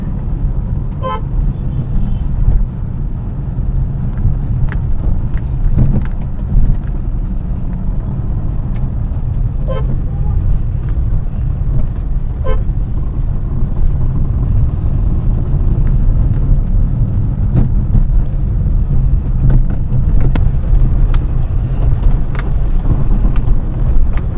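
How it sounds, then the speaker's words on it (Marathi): Water tanker trucks on a roadside during summer, a loud continuous engine rumble and road roar, with a few short horn toots and passing swells, no talking. "दिवसभर हे टँकर चालू आहेत."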